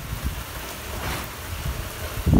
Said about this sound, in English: And now here's the rain.